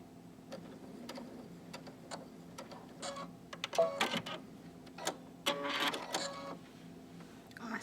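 A sewing machine running a straight stitch in the center needle position with a narrow hemmer foot to roll a fabric hem, quiet mechanical ticking in short irregular bursts, close but soft, with no speech.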